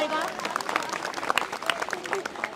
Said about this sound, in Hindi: मोदी साहब ने बढ़िया बोला है तो ठोक के मोदी साहब का ताली बजाकर धन्यवाद करो।